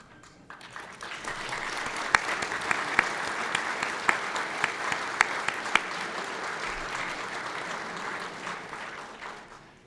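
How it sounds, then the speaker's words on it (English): Applause for elected officials at a chamber of commerce awards dinner in Lawrence County, Ohio: a large room of steady clapping that rises quickly, holds for several seconds with a few sharp claps standing out, then fades. "I'd like any elected officials to stand and be greeted and recognized with a round of applause"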